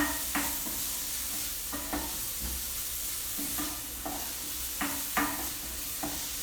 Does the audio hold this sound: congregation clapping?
no